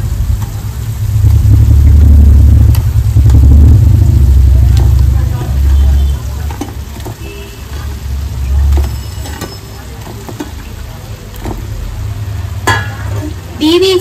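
Egg 65 balls fry in a pan while being stirred, a loud rumbling sizzle with scattered scraping clicks that eases off partway through, and a voice speaks over it at times.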